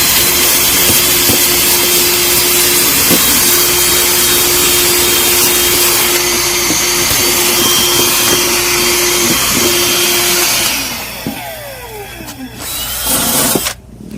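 A worn-down wire wheel cleans near a battery during a boat deck fill leak repair: a loud, steady, close whine and grinding for about ten seconds, then the tool spins down with a few scrapes and knocks.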